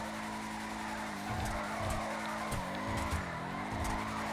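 A Bravado Hotring race car in GTA 5 drifts around a corner, its engine droning steadily while tires squeal in repeated bursts as it slides, loud and close with no talking.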